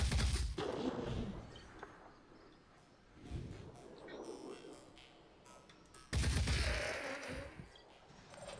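Gunfire in the video game Phoenix Point, heavy booming shots with impact rumble, one near the start and a louder blast later, with quiet talk in between.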